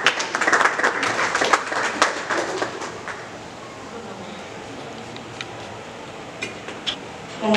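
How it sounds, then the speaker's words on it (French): Applause from a church congregation at an evening ceremony, strong bursts of clapping at the start that taper into scattered faint claps and room noise, with a few isolated claps later. "Nous l'encourageons par vos acclamations."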